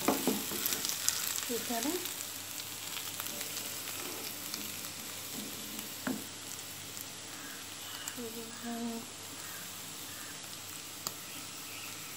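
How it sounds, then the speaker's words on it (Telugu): Potatoes roast in a pan with a constant soft sizzle, with occasional scraping as they are stirred and brief talking over the frying. "సో ఇది ఇలా రోస్ట్ అయింది."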